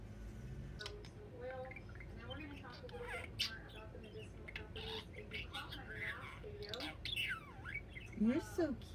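Young budgerigar squawking and chattering with bursts of chirpy calls over a steady background, growing louder near the end, while a person speaks softly to it.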